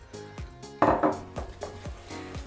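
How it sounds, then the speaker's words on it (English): Utensil scraping and clinking in a bowl as ingredients for an edible Nintendo Switch treat are mixed, with repeated strokes and one louder knock near the middle, close and fairly quiet with no talking. "Now I'm just gonna mix this up a little bit so it becomes a bit easier."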